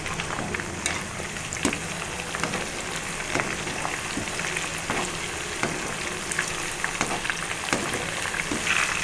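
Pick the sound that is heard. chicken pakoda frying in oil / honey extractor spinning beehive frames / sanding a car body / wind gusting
chicken pakoda frying in oil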